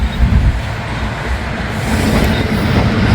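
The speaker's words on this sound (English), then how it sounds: "Sounds like the NS train is coming," A Norfolk Southern freight train rolls past, loud and close, a heavy low rumble with clattering wheels and faint squeal, no speech.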